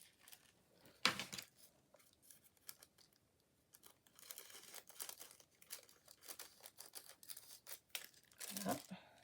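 Scissors cut through material while making small beaded crafts, producing faint snipping and crinkling sounds in scattered bursts, quiet and close, with soft talk nearby.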